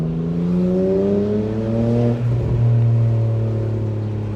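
A BMW E92 with an N52 engine drones and revs steadily up close, its tone sweeping down and back up, with a brief crackle of exhaust pops in the middle.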